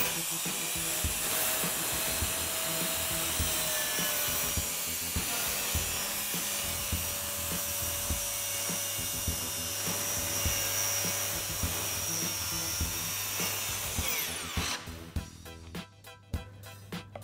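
Power drill boring holes through an old book, a steady whirring grind running close and loud for about fifteen seconds before it winds down into rustling handling noise.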